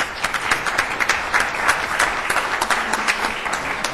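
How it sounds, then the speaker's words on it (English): An audience at a council meeting claps steadily, a full, continuous wash of applause from a room of people with individual claps popping through. "He probably thought we were clapping for him."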